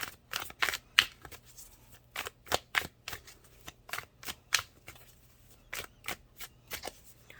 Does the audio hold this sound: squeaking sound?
no